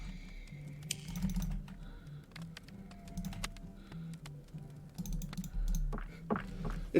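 A computer keyboard is mashed rapidly during a Haunted House 2020 game session, with dense, uneven bursts of clacking keys, close and fairly quiet, carrying on without pause over a low hum.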